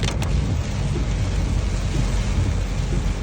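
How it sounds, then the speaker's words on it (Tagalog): Heavy rain drums on a car in a July downpour, heard from inside as a loud, dense, unbroken roar with a faint low rumble of the moving vehicle beneath it. "Pero sobrang lakas ng ulan."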